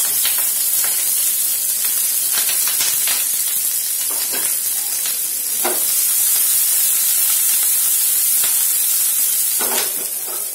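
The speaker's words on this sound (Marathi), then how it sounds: "तेल व्यवस्थित झालं की याच्यात आपल्या ह्या मिरच्या फ्राय करून घ्यायच्या" Green chillies fry in hot oil with a loud, close, continuous sizzle and hiss that holds steady throughout, with faint scattered crackles.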